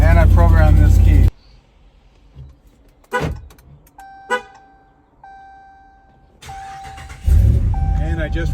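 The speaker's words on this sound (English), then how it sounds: "And I just remote started it from the new key fob as well." Ram 1500 pickup remote started from a key fob, its engine rumbling loudly up close, with short electronic chime tones and clicks between; a person speaks over the engine at start and end.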